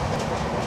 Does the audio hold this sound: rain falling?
no